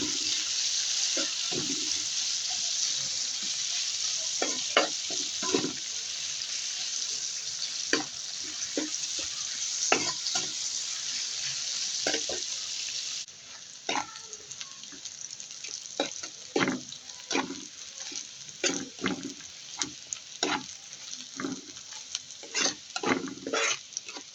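Onions fry in a pan for a shing fish bhuna, giving a loud continuous sizzle with frequent spatula scrapes and taps; midway the hiss drops sharply and quieter frying and stirring continue, with no voices.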